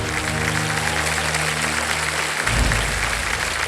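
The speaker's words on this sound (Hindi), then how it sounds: "तालियां बज जाए" A studio audience at the Kaun Banega Crorepati quiz show bursts into steady applause, clapping continuously over a low sustained music bed that cuts out partway through.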